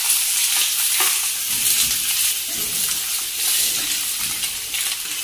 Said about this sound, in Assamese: এয়া তেল গৰম হ'ল পাঁচফোৰণ দিলোঁ